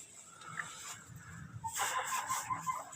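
Chickens in a coop give short clucks and calls, scattered at first and then denser and louder in the second half, with a busy background of birds close by.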